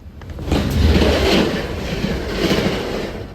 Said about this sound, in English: via rail train